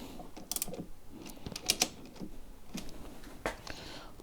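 A wrench tightens cylinder head bolts on a two-stroke engine with a CNC head, making quiet close metallic clicks and ratcheting ticks in irregular bursts over soft background noise.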